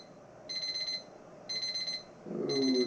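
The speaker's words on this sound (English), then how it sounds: "can you turn the timer off, Chris?" A kitchen timer alarm beeps in three short, evenly spaced bursts of shrill electronic tones, fairly quiet and close, with a louder clatter at the end.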